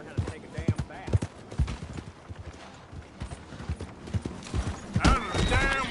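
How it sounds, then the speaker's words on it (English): Horse hooves clip-clop in a quick, uneven rhythm close by, and a loud whinny rises near the end, with people talking over much of it. "Hey! My horse!"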